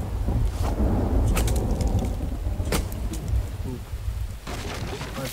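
Steady rain in the survival video game The Infected, a constant hiss of drops over a low rumbling bed, with a few sharper splashy bursts standing out briefly.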